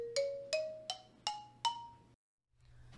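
Five dry, woody clicks from the shaft of a mallet striking the wooden bars of a marimba, evenly spaced with a short pitched ring after each, close and fairly quiet, alone.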